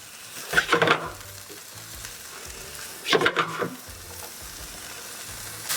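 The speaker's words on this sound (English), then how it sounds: "So my vegetables have been sweating off here for about 10 minutes and they're nice and caramelized and soft." Chopped vegetables sautéing in a pan for vegan chilli hiss steadily and up close. Two loud bursts of sizzling and stirring break in when the pan is worked, and there is no talk.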